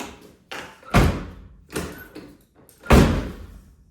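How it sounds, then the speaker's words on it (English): Doors of a classic car with a door that won't close correctly are shut repeatedly, several sharp slams and thuds at uneven intervals, close and loud, with quieter clicks between. "Old car problems number 1. The door won't close correctly."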